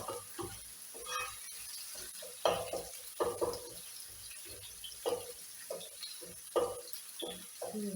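Garlic and onion fry in a pan, giving a steady sizzle broken by repeated stirring scrapes and clinks of a utensil against the pan, all close by.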